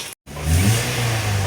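A Toyota Vios with a single VVT-i engine cranks and catches after a brief silence, then runs at a steady, loud, close idle with a slight rise in revs.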